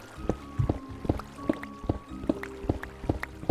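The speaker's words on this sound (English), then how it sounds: "How am I getting water sounds like it's running water?" Running water from a large cave in a video game, heard as a close series of regular drips and small liquid splashes with a faint steady tone underneath.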